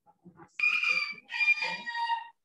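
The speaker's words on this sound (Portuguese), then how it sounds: "Tem até um galo cantando aí, né?" A rooster crows nearby in two drawn-out, strident calls separated by a short gap, preceded by a few faint clucks, with no talking in a quiet setting.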